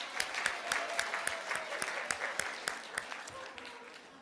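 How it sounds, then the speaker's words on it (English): A meeting audience applauds, with individual sharp claps standing out over a thinner layer of clapping and faint voices, gradually tapering off. "give yourself a big round of applause"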